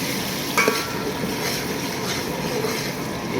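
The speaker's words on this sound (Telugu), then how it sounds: "ఈ పచ్చి వాసన పోయేంత వరకు వేపుకోవాలి" Tomato paste fries in about three spoons of hot oil for a goat head curry, giving a steady, even sizzle with faint stirring scrapes throughout and no talking.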